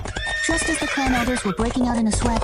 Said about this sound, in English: That's the sound of a celestial horse.